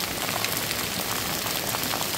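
Small hailstones mixed with water falling steadily on surfaces outdoors, a dense even patter of many tiny hits, loud and continuous, with no voices.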